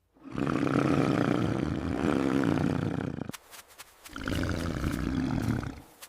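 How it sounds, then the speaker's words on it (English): A huge prehistoric cave lion roars twice, each long, loud, rumbling roar filling the space, separated by a brief pause. "A cave lion. Twice the size of any lion alive today."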